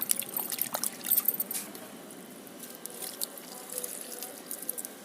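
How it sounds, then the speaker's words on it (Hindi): A small amount of water is poured onto moist soil in a potted plant, giving a soft, close trickle with scattered drips that fade to a quieter dribble. "तो थोड़ा सा हम इसमें पानी भी छोड़ देंगे, थोड़ा थोड़ा, बिल्कुल थोड़ा पानी हम छोड़ेंगे"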